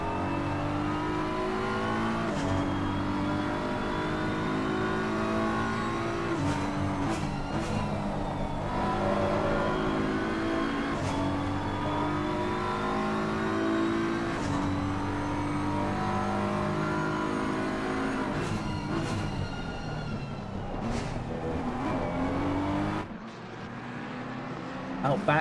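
Race cars circle the Zolder circuit in a five-hour endurance event, engines droning and revving continuously as cars weave through lapped traffic, with a commentator talking over the steady roar.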